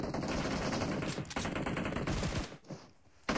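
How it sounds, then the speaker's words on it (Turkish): Gunfire in a PUBG Mobile esports team deathmatch between S2G Esports and Istanbul Wildcats Next: dense rapid automatic bursts, loud and close, that briefly drop out and then resume. "Mermiler hiçbir şekilde durulmuyor."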